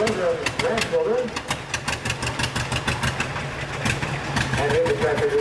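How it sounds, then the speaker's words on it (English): A 1946 John Deere B tractor engine running in a small-town centennial parade in Cleghorn, Iowa, with a steady, loud, rhythmic chugging of evenly spaced pulses and a voice over it. "And here's the tractor driven by Brad Peterson, 46 John Deere B."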